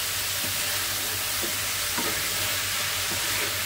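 Chopped onion with turmeric powder frying in a pan, a soft steady sizzle with a few faint stirring knocks, fairly quiet and continuous, no speech.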